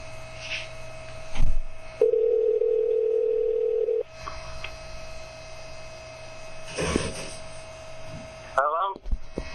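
One steady two-second telephone ringing tone sounds over a humming phone line, with faint voices and handling noises around it.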